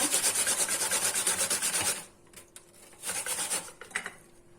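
An onion rubbed steadily across a grater, making a loud, close, rhythmic rasping that runs for about two seconds, then a few shorter scraping strokes with quiet gaps.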